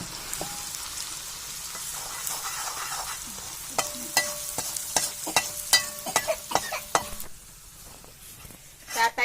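Meat sizzles steadily in a hot pan while a utensil stirs and scrapes against the metal in irregular clattering strokes, close by. Later the frying fades to a softer hiss.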